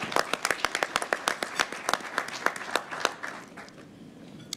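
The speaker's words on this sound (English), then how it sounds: "Let's give them all a round of applause." Applause from a group at a university system board of regents meeting: crisp, distinct claps that are brisk at first, then thin out and fade to a few scattered hands by the end.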